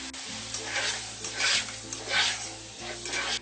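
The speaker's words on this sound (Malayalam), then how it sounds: "ഇനി ഇതിലേക്ക് ഈ ക്രഷ് ചെയ്ത് വെച്ചിരിക്കുന്ന ടൊമാറ്റോ ചേർത്ത് ഇളക്കി കൊടുക്കാം" Crushed tomato is stirred into a hot cooking pot, with a loud wet sizzle and repeated scraping stirs that swell and fade in waves, close up and without talk.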